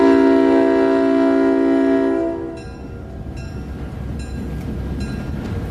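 Train running on rails: a loud sustained horn blast for about two seconds, then the rumble of cars rolling past with rhythmic clicking of wheels over rail joints.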